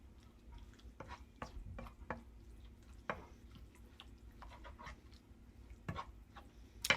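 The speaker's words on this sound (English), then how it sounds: "So this is just the ready-made chopped chilli, and give that a stir" Ready-made chopped chilli stirred into Chinese spring roll filling in a bowl: soft, faint wet squelches and light clicks of the spoon at an irregular pace, close and quiet, without voices.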